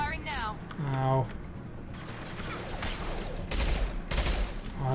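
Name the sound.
gunfire from a gun in the video game Mass Effect 2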